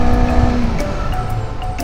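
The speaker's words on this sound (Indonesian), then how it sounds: "Misalkan ya kita dalam kecepatan ngebut ya, tiba-tiba kita diharuskan untuk mendadak ya ngerem." Honda CBR250RR sport motorcycle braking suddenly from speed during an ABS test: a loud, close engine and road roar with a brief squeal-like tone, continuous for under two seconds with no talk.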